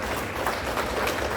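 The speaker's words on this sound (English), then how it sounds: "hell yeah, you can applaud that." An audience at a stand-up comedy show in a Melbourne auditorium applauds briefly, a soft, even wash of clapping throughout.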